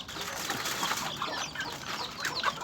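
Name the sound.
chickens and chicks clucking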